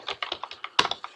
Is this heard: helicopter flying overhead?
no